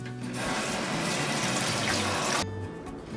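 A kitchen tap runs steadily for hand washing with soap and warm water, a continuous broadband splash and hiss lasting about two and a half seconds before it is shut off, fairly close, no voices.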